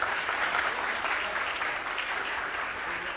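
An audience claps together in a dense, sustained round of applause that fades slightly toward the end.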